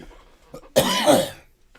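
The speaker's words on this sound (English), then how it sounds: "Trying to get them last coughs off." A short burst of harsh smoker's coughing, close and loud, following a quiet moment with faint background noise.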